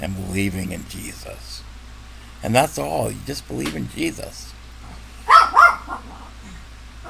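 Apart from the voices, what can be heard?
dog barking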